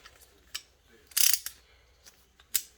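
A brake caliper spreader ratchets in a few separate bursts while front brake pads are replaced on a Hyundai Elantra, with short metallic clicks spaced out and one longer cluster, close and moderately loud.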